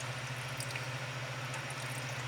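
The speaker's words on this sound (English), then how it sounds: "we're just going to be adding half a cup of water" Half a cup of water poured into a marinated sauce for milkfish steak, a steady soft pour with a low hum running under it throughout, no talk.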